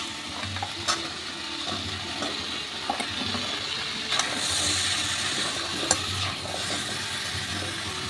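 Vegetables go into a pan of chicken stew cooked down with yogurt until the oil separates. A soft, continuous sizzle and hiss runs throughout, with light stirring and scraping against the pan and no talking.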